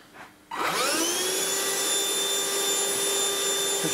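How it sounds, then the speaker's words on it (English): A household Hoover vacuum cleaner switches on and roars steadily as it sucks up metal filings on a model railway layout, a loud close whine that holds constant after a quick spin-up. "You make sure we see your Hoover up any mess."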